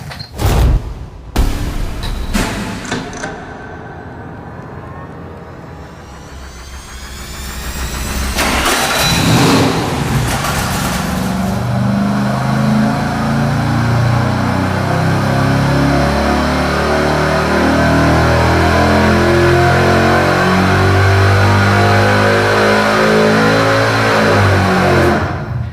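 A V8 test engine with headers, Hooker mufflers, a 3-inch exhaust and a long extension pipe cranks in loud bursts and catches. It revs up, then settles into a steady, powerful, rumbling drone.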